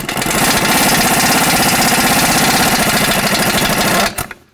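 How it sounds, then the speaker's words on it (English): Nut being removed from the front wheel hub of a 2006-12 Ford Fusion, most likely with a power tool: a loud, steady mechanical rattling drone that runs close up for about four seconds and then stops abruptly. "Go ahead and remove this nut, and then we're going to break it free."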